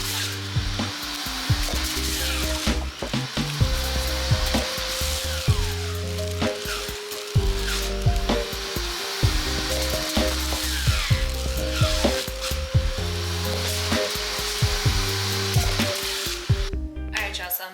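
Electric juicer grinding carrots, ginger and oranges, a loud steady whirring drone with rough crunching and sizzling textures that runs without a break for most of the clip and then cuts off near the end, with no voices.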